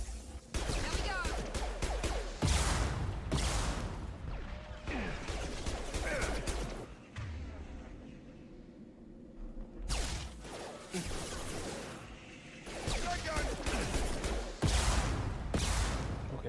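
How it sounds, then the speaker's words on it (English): Video game battle with rockets and gunfire: booming blasts, whooshes and crashing impacts in dense loud bursts, broken by a quieter stretch midway. "those motherfuckers are shooting rockets."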